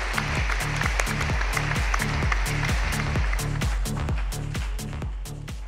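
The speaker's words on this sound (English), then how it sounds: "Please, a huge round of applause in welcoming him." A large crowd applauding steadily, a dense wash of clapping with a regular low thumping beat underneath, loud and continuous throughout.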